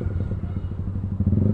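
A Yamaha R15M sport bike fitted with a loud aftermarket exhaust rumbles close by in a street market, giving a steady throaty drone with brief revving surges and some clatter.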